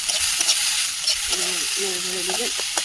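Banana plant pieces frying with salt and turmeric, a steady sizzle with stirring scrapes, while a voice talks over it midway.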